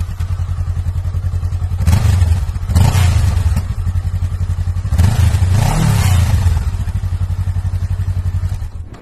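A Honda 300cc or 500cc motorcycle with an Arrow exhaust and dB killer fitted idles with a steady, thumping low rumble, broken by a few throttle blips that rise and fall, close and loud.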